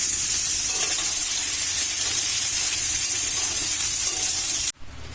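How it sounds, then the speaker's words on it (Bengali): Mixed vegetables frying with lentil dumplings in a little oil in a wok, a loud continuous close-up hiss and sizzle that cuts off abruptly near the end. "এতে আমি সামান্য পরিমাণ বড়ি দিয়ে দিলাম এবং এটাকে ভালো করে ভেজে নিতে হবে সবজিগুলোর সাথে"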